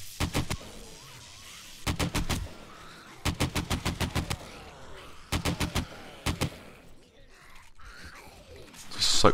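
Gunfire in the survival zombie game 7 Days to Die, fired in several rapid bursts of sharp cracks separated by short pauses, loud and close, with a brief voice near the end.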